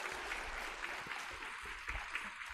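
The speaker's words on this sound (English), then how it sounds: "And so one more round of applause, please." An audience at a wellness and epilepsy conference gives a round of applause, a fairly faint, steady wash of clapping that holds evenly throughout.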